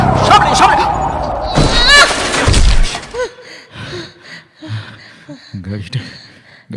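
A car crashing into a tree, staged as a sound effect in a Bengali audio drama: a loud, dense burst of impact and crunching noise fills the first three seconds, then voices talk over quieter background.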